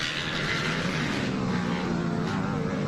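A Yamaha camera drone flies above a GNCC off-road motorcycle race, its steady engine-like drone filling the clip loud and continuous with no talk.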